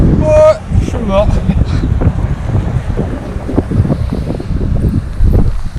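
Strong wind buffets the microphone on a rainy first day of a cycling trip in Iceland, a loud continuous roar with gusts, and a few brief tonal squeaks near the start.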